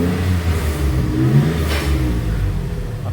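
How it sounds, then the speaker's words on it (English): Car engine revving on 54 mm exhaust pipework with a throaty tone, a short, loud, steady rumble with a slight swell in the middle and no voices. "I'll give it a couple of revs and you can see and hear"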